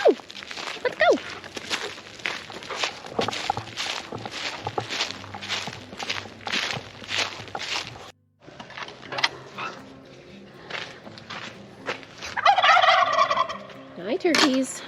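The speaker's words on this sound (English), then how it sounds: "Hi, turkeys." Turkeys in a backyard gobble repeatedly in rapid, rattling bursts close by, mixed with footsteps, with a pause partway through and a person talking in between.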